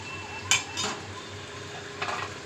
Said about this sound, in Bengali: চাপা দিয়ে দিলাম